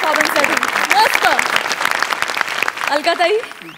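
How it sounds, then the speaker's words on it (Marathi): A studio audience at a Marathi comedy show applauds a performance with loud, close clapping, while voices talk over the applause throughout. "जोरदार टाळ्या या परफॉर्मन्ससाठी मस्त"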